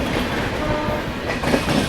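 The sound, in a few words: passing train hauled by WAP7 locomotive, clickety-clack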